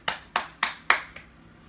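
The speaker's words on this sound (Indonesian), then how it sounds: "Tolong beri aplaus kepada temannya." A classroom of junior high students claps for a group of classmates: five or six evenly spaced claps at a brisk pace, close and clear, then quickly fading out.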